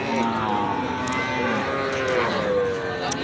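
A thin, bony cow at a cattle market in Ranigonj, Dinajpur, lets out a long, low moo close by, over a steady background of outdoor crowd noise.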